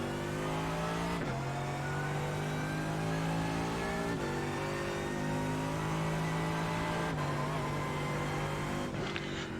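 Mercedes-AMG GT3 race car engine at Hockenheimring in a racing video game, holding a loud, steady high-revving drone that drops at each upshift, with three gear changes spread across the run and the engine note close and continuous.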